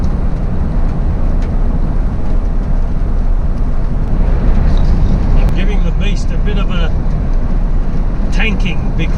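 A vehicle engine on an Australian road trip is held at about 3,000 rpm to blow out the EGR valve, a loud, steady, rumbling drone mixed with wind, while someone talks over it.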